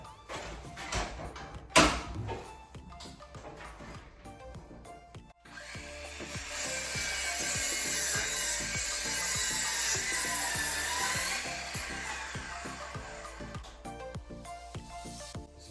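Off-cut softwood timber is sawn at an angle, with scattered knocks and handling at first, then a steady, loud, rasping cut that runs continuously for about ten seconds before easing off.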